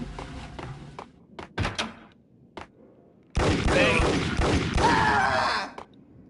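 Video game gunfire aimed at enemies: a few sharp, scattered shots early on, then a dense, loud barrage of rapid fire lasting about two seconds before it stops.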